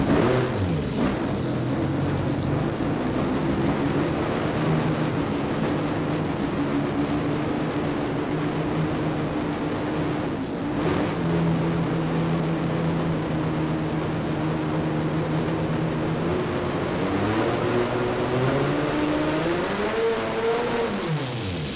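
A turbocharged 12-rotor engine revs at partial throttle while building boost, a steady loud droning roar that holds and then climbs in pitch toward the end, with no voices over it.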